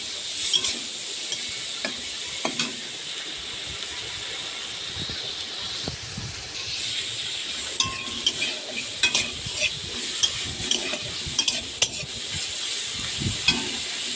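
Prawns frying in oil in a kadai make a steady sizzle broken by frequent sharp clicks and scrapes of stirring, close and fairly loud throughout.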